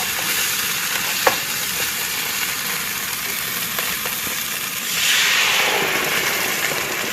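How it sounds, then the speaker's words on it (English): Curry paste for laksa sizzles and fries in a pan, with a steady crackling hiss, a few stirring clicks and a brief louder surge of sizzle partway through, and no talking. "Give that a little saute just to bring out the nice elements of the paste."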